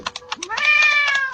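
A cat meows in a quick rising call, with rapid soft clicking like computer keyboard keys around it, close and fairly loud.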